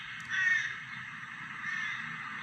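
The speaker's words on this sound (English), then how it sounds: "Great, horrible rooks. Crows." Rooks cawing in a steady, harsh chorus at middle distance, with one louder burst near the start and no voices.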